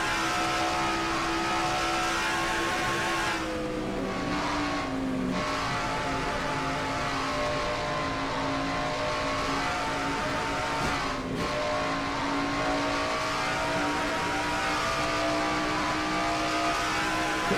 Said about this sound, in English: Quentin now trying to get past the number 12 car of Ryan Brommer